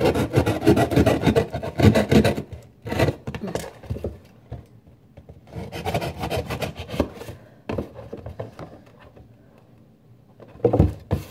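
Holes are drilled into a container for growing bean sprouts, a close grinding rasp that comes in several bursts broken by short pauses.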